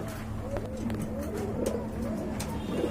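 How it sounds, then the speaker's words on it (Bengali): Several pigeons coo softly in low, rolling calls over a steady background hum, with occasional faint rustles nearby. "আরেক জোড়া কবুতর ভাই কি কবুতর এটা"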